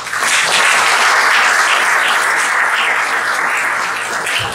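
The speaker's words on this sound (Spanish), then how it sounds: "les pido un caluroso aplauso" Applause from the audience at a tax-law panel discussion on a new law against fiscal fraud, dense and steady clapping filling the room, loud and continuous before tapering slightly at the end.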